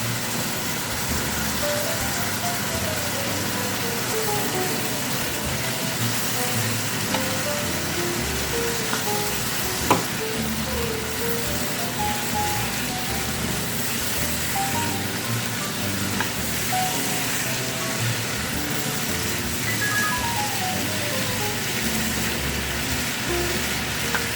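Shredded cabbage stir-frying with fried rice in a hot pan gives a constant loud sizzle that runs unbroken for over twenty seconds, with faint scrapes now and then and no speech.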